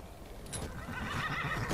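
A horse neighs in the Skyrim video game, a loud, close, drawn-out whinny rising over faint hoof clatter, with no talk.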